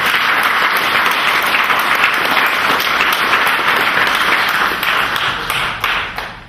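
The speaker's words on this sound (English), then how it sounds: "So please join me in giving him a huge round of applause." Loud, sustained audience clapping for an author at a book launch, a dense crowd ovation that holds steady and then begins to thin toward the end.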